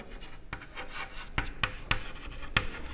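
Chalk or marker taps and scratches on a board during a class 8 maths lecture on algebraic expressions, forming a series of sharp, fairly quiet strokes at irregular intervals over low room noise.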